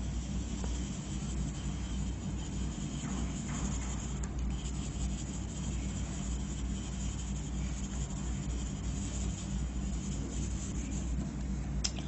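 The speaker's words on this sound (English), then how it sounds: "making continuous irregular marks with pencil" A pencil scumbles across paper, making continuous irregular shading marks: a steady, close scratchy rubbing that runs unbroken throughout with no talking.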